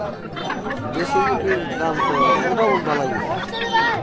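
Desi chickens at a rural village market in a char area, with clucks and calls rising over busy crowd chatter and bargaining voices throughout.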